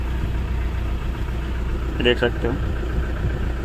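A Toyota Innova engine idles steadily after starting following an immobilizer replacement, a constant low rumble running throughout while someone talks briefly over it.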